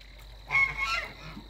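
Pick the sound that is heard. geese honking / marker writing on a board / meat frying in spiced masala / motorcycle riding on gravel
geese honking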